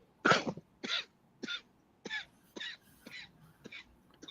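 A man coughs repeatedly in a fit of about eight harsh, evenly spaced coughs, close and loud, with quiet pauses between them.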